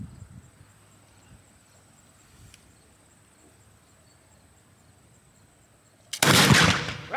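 A flintlock rifle fires once at a historic fort demonstration: a quiet outdoor lull with faint insect chirring, then one sudden loud, sharp report near the end that rings out and decays.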